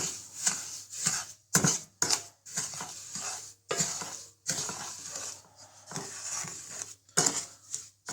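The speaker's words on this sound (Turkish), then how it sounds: "Ve bunu soğuk vaziyette eriyene kadar önce İyi karıştırıyorum." Sugar and cold water are stirred together in a pot to make bee fondant, giving repeated scraping, clinking strokes of a utensil against the container in an irregular rhythm, close and fairly quiet, with no talk.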